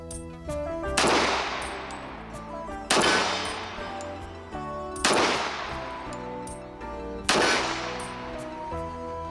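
A stainless Colt Gold Cup Trophy 1911 pistol fires four sharp shots at a target at an even spacing of about two seconds, each loud close crack trailed by a ringing metallic echo, with no talking.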